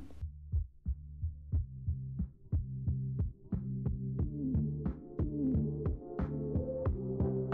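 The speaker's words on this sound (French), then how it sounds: "on ajoute les 100 g de sucre et on fouette sans que ça blanchisse" Egg yolks, sugar and lemon zest are whisked by hand in a bowl, heard as close, regular rhythmic strokes of roughly three per second with a faint ringing tone and no talk.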